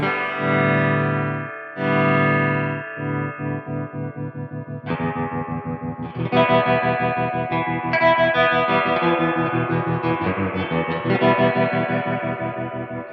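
Electric guitar running through a Crazy Tube Circuits White Whale V2 reverb and tremolo pedal, with chords chopped into a rapid, steady tremolo pulse and a washy reverb tail, played loud and alone with no voices.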